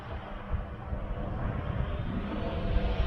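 A Swan K1 Pro drone flies and slowly descends, giving a steady, dense whirring rush with wind noise that holds at a constant level throughout, with no voices.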